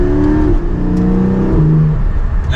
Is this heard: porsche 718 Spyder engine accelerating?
yes